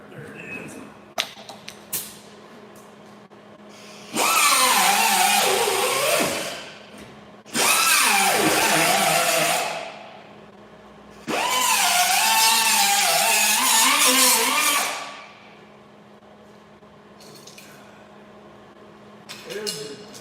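A die grinder strips rust during a rust repair, running in three loud, close, high-pitched whines of a few seconds each, separated by pauses filled with small clatter and handling noises.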